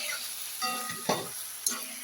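Pointed gourd fries in a pan after a little water is added. The sizzle is soft and steady, with a few sharp stir scrapes and spits over the hiss.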